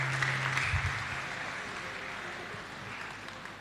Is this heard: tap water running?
no